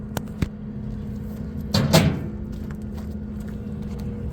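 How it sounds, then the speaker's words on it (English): An access door beside a machine's control panel is pulled open by hand. Two sharp clicks come first, then a louder scraping clunk near the middle, all over a steady low mechanical hum. "Open this door up."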